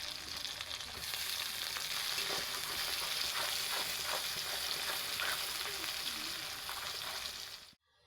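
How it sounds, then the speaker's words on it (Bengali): Onions and green chillies fry in hot oil with a steady, dense sizzle and occasional stirring, close and continuous until it cuts off abruptly near the end. "বন্ধুরা, এই যে আমার পেঁয়াজটা লাল লাল করে ভাজা হয়ে গেছে"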